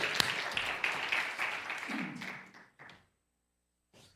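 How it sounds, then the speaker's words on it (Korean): A church congregation claps together for a few seconds, a busy patter of hands that thins and stops, followed by near silence and a short final sound. "우리 박수 한번 해보겠습니다"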